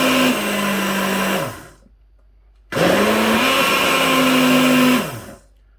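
A kitchen grinder whirs loudly while blending an apple milkshake, running in two bursts separated by a short pause, its motor pitch sagging as it chews through apple pieces.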